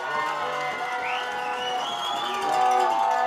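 A youth football crowd at a U14 Tier 2 championship game cheers steadily, with whistles and shouts rising over a constant roar that swells louder near the end.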